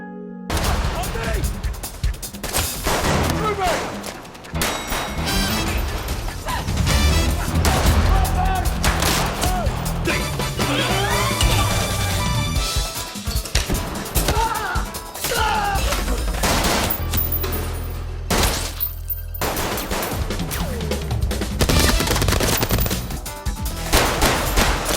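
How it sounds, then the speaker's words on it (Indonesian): Gunfire erupts in a film shootout in a parking area, with rapid bursts and single shots continuing loudly over a dense score and crashing effects, voices occasionally audible. "Tiba-tiba mereka diserang oleh sekelompok orang hingga terjadi adu tembak."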